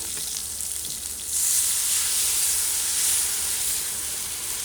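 A sizzling tadka of hot spiced oil is poured into kadhi, a yogurt or buttermilk curry, giving a sudden loud hiss that swells and holds steady as a continuous fry-and-steam sizzle, with no voices.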